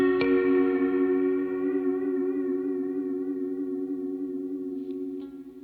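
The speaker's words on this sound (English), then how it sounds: "We can have it affect the pitch of the reverb." A guitar chord rings into a Strymon NightSky reverb pedal, its long shimmering tail wavering in pitch with slow regular modulation as it gradually fades, alone with no talk.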